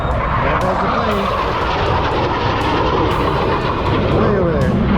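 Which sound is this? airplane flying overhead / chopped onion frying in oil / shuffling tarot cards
airplane flying overhead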